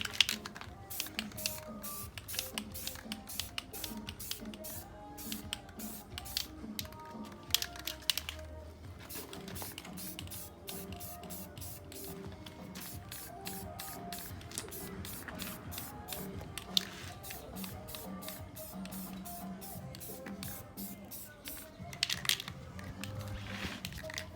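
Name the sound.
spray painting Infiniti Q50s rims gloss black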